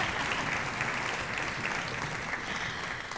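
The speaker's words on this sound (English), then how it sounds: "Give them a round of applause." Audience applause at a high school spring concert, a dense steady wash of clapping from a crowd filling the room, moderately distant, with no voices over it.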